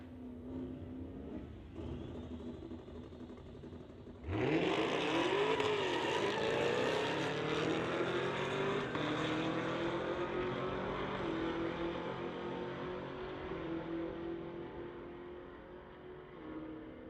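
Drag race launch between a 2021 Camaro and a 2003 Mustang: a quiet idle rumble, then a sudden loud burst of two engines revving hard at about four seconds, holding a roaring, rising howl that fades slowly as the cars pull away.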